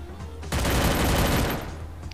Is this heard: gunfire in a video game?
yes